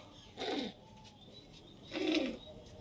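Two separate rounds of soft, low cooing come from paired pigeons in a home loft during the rainy season, each burst lasting a moment against a quiet background, with no talking.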